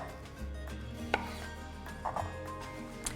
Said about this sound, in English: I'm just going to halve my tomatoes and then into a bowl